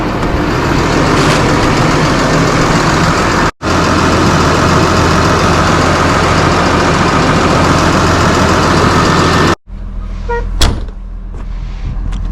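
A loader tractor engine idles steadily and loudly at close range with a constant low rumble, broken by two brief dropouts, then quieter with a few clanks near the end.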